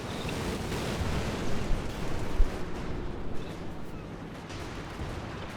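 Stuka dive-bomber bombardment in Company of Heroes 2, heard as a dense, continuous rumble of explosions and artillery-like blasts with a sharper boom near the middle, loud and close, no voices.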